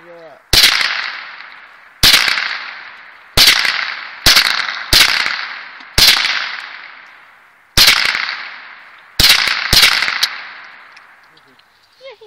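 A 10/22 rifle fires about ten sharp, loud reports at an irregular pace outdoors, each crack trailing off in a short echo.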